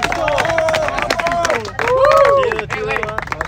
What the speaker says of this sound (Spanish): un fuerte aplauso para Esquizo